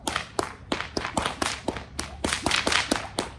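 Whip cracked in a steady figure-eight pattern, a fast run of sharp, loud snaps about every quarter second, close and alone, set to music.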